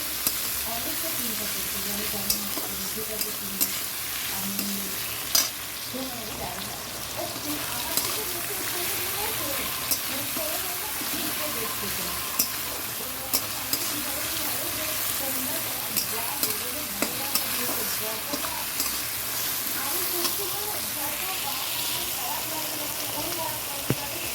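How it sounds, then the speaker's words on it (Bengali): Onions frying with a little sugar in a pan give a steady, close sizzle throughout, punctuated by occasional clinks and scrapes of stirring. "দেখো পেঁয়াজটা ভাজা হয়ে গেল পেঁয়াজটা ভাজা হয়েছে"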